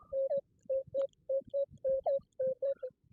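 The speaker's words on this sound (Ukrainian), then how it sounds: "Ви тільки подивіться, який сигнальчик в мене був." A metal detector sounds a signal tone while hunting for Chernyakhiv culture relics: about a dozen short, steady mid-pitched beeps in a quick, fairly regular rhythm, close and clear with nothing else over them.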